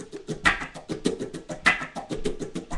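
Electric guitar playing a percussive muted strum pattern with a wah pedal swept on beats two and four, giving rhythmic brighter accents on those beats against steady choppy scratches.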